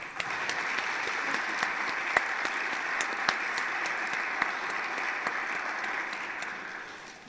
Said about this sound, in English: You guys can put your cameras down and clap a little bit.